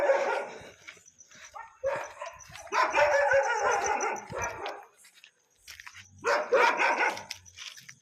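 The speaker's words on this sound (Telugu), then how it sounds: "కుక్క ఆపిస్తున్నా" A dog barks and yelps in several loud, close bursts with short gaps between them, with no talking.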